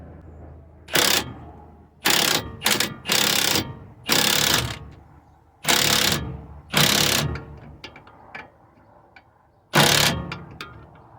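A ratchet wrench tightens a sway bar link nut on a Toyota or Lexus in loud, close bursts of rapid clicking, about eight separate pulls separated by short pauses, with lighter clinks in between.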